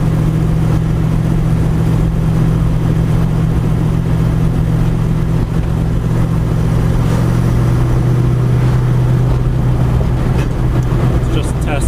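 A car fitted with an S1 sequential shifter drives on with a loud, continuous engine drone that holds steady, then shifts pitch slightly partway through as it moves up the gears.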